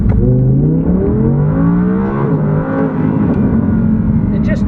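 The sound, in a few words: Audi R8 V10 RWS accelerating hard in first gear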